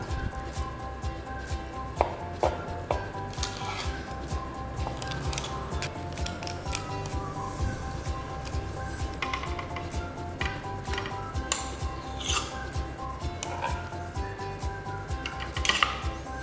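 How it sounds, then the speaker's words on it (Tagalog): A knife slices through a Basque burnt bibingka cheesecake, with repeated soft cutting and tapping strokes against a plate or board, close and quiet, while light kitchen clatter continues. "dito tayo mag-slice sa medyo okay pa na side"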